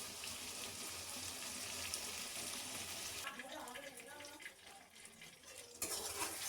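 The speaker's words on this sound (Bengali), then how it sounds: "তখন আর অনেকটা টাইম লাগবে না পেঁয়াজটা ভাজতে" Onions fry in a pan for a home-style chicken curry, a faint steady sizzle with the scrape of stirring and brief watery splashes, quiet and close, broken by a short lull midway.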